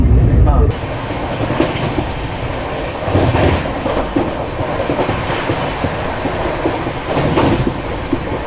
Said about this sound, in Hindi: चलिए अब डिपार्चर सिग्नल जो है वो तो हमारी ट्रेन को मिल चुका है, तो अब डिपार्ट करते हैं आगरा कैंट से।